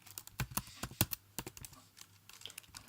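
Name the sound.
typing on computer keyboard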